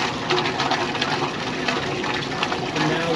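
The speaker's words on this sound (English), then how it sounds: "I turned off the water heading into the black tank" Water runs steadily through a hose into an RV black tank, a continuous loud rushing, gushing flow with no breaks and no one speaking.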